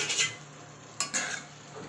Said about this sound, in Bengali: তো এবার নাড়াচাড়া করবো